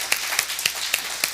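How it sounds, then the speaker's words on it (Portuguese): A few scattered hand claps ring out in a quick, uneven rhythm, sounding like a small group clapping nearby during a church service. "Dá uma salva de palmas ao Senhor."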